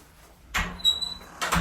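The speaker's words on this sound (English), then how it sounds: "A lot of squeaking noises, I gotta say. A little WD-40 would go a long way." A W Las Vegas hotel bathroom door at Mandalay Bay squeaks as it moves, a sharp high squeal between two louder thuds and rustles of opening and closing, heard up close with no talk.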